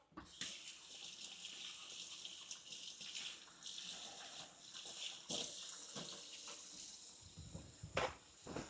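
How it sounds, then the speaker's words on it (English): Tap water runs steadily into a sink while gloved hands are washed in a kitchen during beef stew prep, a continuous close splashing gush with shifting texture and a few louder spurts near the end. "why is he washing his hands with the gloves?"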